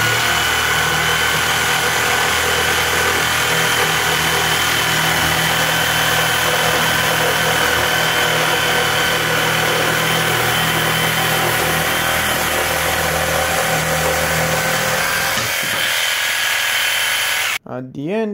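A Parkside Performance PPSTK 550 A1 jigsaw cuts with speed level 3 and pendulum stroke setting 3, without a splinter guard. It gives a loud, steady, high buzzing drone for about seventeen seconds before stopping abruptly.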